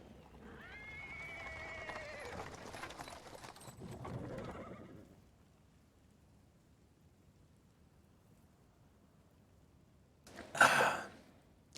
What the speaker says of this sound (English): He's interrupted by the sound of wheels rolling up on paving stones. A cart drawn by a sad little horse appears from around the corner.